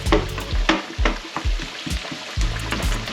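Food toasting and frying in a pan for a Spanish porrilla de papas: a close, continuous sizzle with repeated stirring scrapes and clatters in short bursts, no talking.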